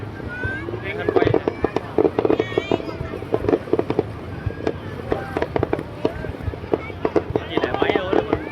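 Fireworks bursting at the Carnaval Ha Long 2023 celebration in Ha Long, a steady run of sharp cracks and booms over crowd noise and wind, with people talking nearby.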